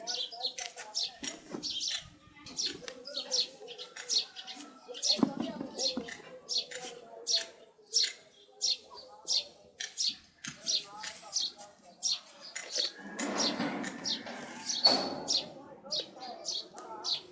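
Many small birds chirping in rapid repeated bursts, close and lively, in a village while someone talks quietly underneath.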